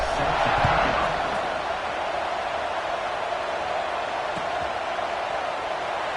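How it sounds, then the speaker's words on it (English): Football stadium crowd buzzing after a score, a dense, steady roar of many distant voices that stays level throughout with no single voice standing out. "this crowd is buzzing after that last score"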